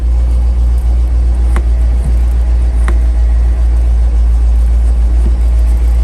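A GMC 7000 boom truck's big-block 366 engine runs in a loud, steady low rumble as its hydraulic pump engages, with a few faint clicks over the drone.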